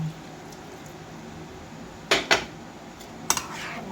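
A dish being mixed in a pan after seasoning with pepper, dried leaves and soy sauce: quiet background hum, then a few sharp metallic scrapes and clinks of a utensil against the pan, close by, with no talking.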